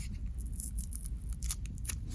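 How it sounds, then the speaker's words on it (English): Scissors snip through origami paper in a quiet room, several short crisp cuts spaced irregularly, close and fairly soft with no talking. "So I'm going to take my scissors and show you."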